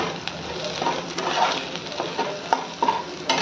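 Potatoes and peas for poha sauté in a hot pan, a steady close sizzle and fry crackle with small pops and spatula scrapes throughout.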